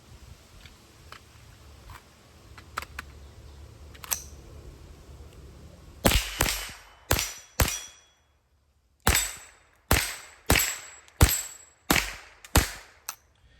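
A Ruger 10/22 magazine fired through a Winchester Wildcat rifle: about nine sharp, loud shots, the first two spaced, then a steady, evenly paced string after a short pause, with quiet handling clicks beforehand and no talking.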